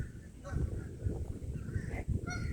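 Geese honk repeatedly in an outdoor park, Honor Heights Park, with several short overlapping calls at moderate distance over low background rumble.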